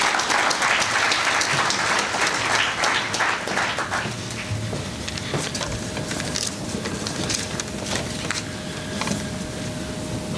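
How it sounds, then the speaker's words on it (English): An audience at an African Plant Breeders Association opening ceremony breaks into sustained applause, dense clapping from many hands that stays loud before easing slightly toward the end. "Can we all give him a round of applause?"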